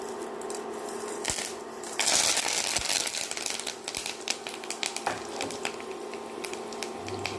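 Mustard seeds and urad dal with curry leaves and a dried chilli spluttering in hot sesame oil for kollu rasam: dense, crackling pops and sputters, steady and close, with no voices.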